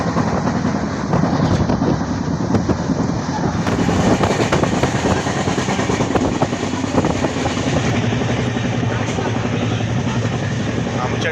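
Vadodara Express train running on rails, heard from inside a coach as a loud, continuous rumbling roar with faint rhythmic rail clatter throughout.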